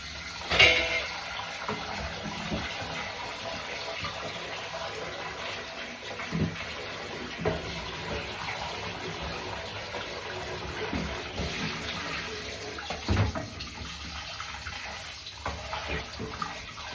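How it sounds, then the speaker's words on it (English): Tap water runs steadily into a saucepan being soaked with soapy water at a kitchen sink, a continuous hiss with a few brief knocks and clunks along the way and no talking. "I'll soak it with the soapy water, and that can stand until later."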